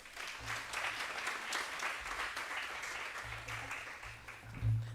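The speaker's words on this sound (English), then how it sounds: "Please give her a round of applause." Audience applause at a women in leadership conference, fairly faint and distant clapping spread evenly over a few seconds, with low thumps and background murmur.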